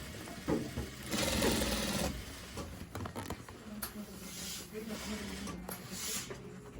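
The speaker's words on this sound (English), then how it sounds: "So I'm putting back the top stitch, the bank stitch first, that's what they call it." A sewing machine runs a top stitch on fabric in short bursts of rapid mechanical chatter separated by pauses, heard up close while a person talks over it.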